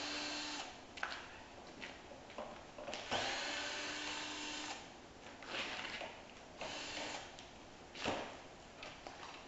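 A power drill backs screws out of a wooden acoustic panel frame in short, quiet whirring bursts, several separate runs with pauses between them, faint and close.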